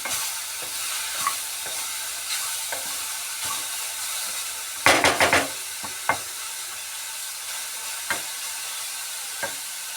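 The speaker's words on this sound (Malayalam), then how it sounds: "ചീരയും കൂടെ അതിലേക്ക് ഇട്ട് ചീരയും അരപ്പും കൂടി ഒന്ന് ഇളക്കി ചേർത്തതിന് ശേഷം" Spinach and ground coconut paste being stirred in a hot pan, a soft steady sizzle with scattered scraping strokes and a quick burst of clattering spoon hits midway, close and heard without talk.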